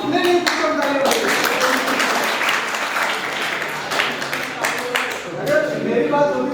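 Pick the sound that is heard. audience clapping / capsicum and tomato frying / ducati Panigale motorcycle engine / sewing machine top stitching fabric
audience clapping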